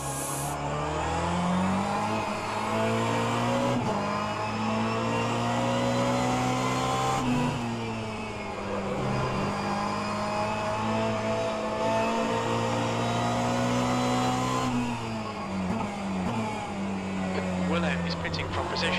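Race car engine in the sim racing game rFactor 2, a loud sustained drone rising and dropping through gear changes over nineteen seconds, with someone talking over it and a radio voice.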